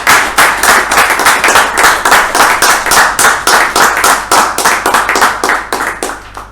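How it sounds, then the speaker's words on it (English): An audience at a Bangalore Toastmasters club meeting claps continuously in a loud, fast, even rhythm that tapers slightly at the end. "So, with a thunderous round of applause, help me welcome our club president, Toastmaster Hannah Victoria."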